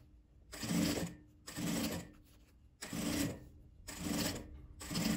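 A sewing machine stitches bias binding and rickrack trim onto fabric for a Christmas piece, running in five close, loud bursts with short pauses between them.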